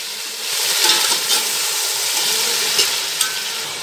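Loud, steady sizzle as tomatoes go into a pan of fried golden-brown onions with whole spices like cinnamon, cloves, cardamom and shahi jeera, with occasional stirring scrapes and no speech.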